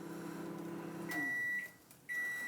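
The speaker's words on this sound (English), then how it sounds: "Put it into the microwave." A microwave oven hums steadily as it heats a crab bake, then a high steady tone sounds, breaks briefly, and resumes, close and clear with no talk.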